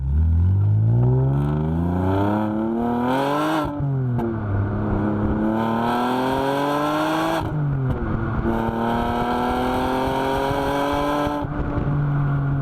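An Alfa Romeo 147 GTA hatchback engine revs hard and climbs through the gears, the rising drone dropping briefly at each shift, loud and close with no talking.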